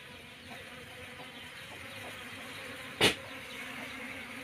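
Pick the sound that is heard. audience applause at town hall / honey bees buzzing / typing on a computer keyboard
honey bees buzzing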